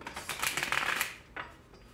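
Tarot cards are shuffled with a quick riffle of rapid flutters, followed by a shorter second riffle; close and fairly quiet.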